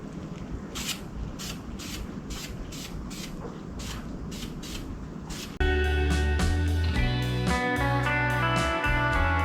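Aerosol spray paint hissing onto a 1981 Corvette engine, steady close bursts of spray with short gaps, then a louder, denser stretch with a musical backing underneath.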